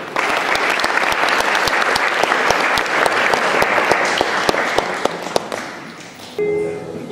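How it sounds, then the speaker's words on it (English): Loud, sustained audience applause for a children's play performed by SSE students at an Aradhana Mahotsavam celebration, dense clapping with sharp individual claps standing out, fading abruptly near the end as a brief tone follows. "Please give a warm round of applause to the SSE children."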